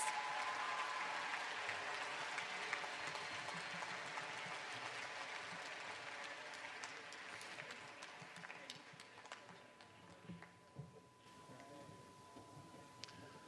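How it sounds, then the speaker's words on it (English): Sustained clapping from an audience at a school entrepreneurship awards ceremony for sixth graders, a steady wash of many hands that continues throughout and thins slightly toward the end, with faint voices underneath. "Let's give a big round of applause and congratulations to all of our sixth graders."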